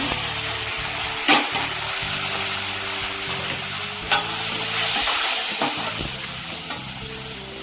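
Tomatoes and chilli masala sautéing in a pan for a Chettinad chicken gravy, a steady loud sizzle with repeated scraping stirs and a few sharp utensil knocks against the pan, no voices.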